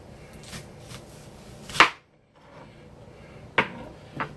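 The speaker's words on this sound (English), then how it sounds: "One more good slice, and then I'll save this onion for something else." A knife slices through an onion on a cutting board, two or three sharp cuts spaced apart, close and crisp against a quiet kitchen background, no voices.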